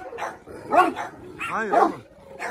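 Cane Corso dogs bark at each other at close range, a few loud, sharp barks with whining between, while someone speaks over them.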